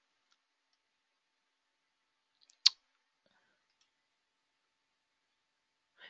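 A single crisp mouse click while working in 3D design software, sharp and fairly close in an otherwise quiet room, with another faint click at the very end.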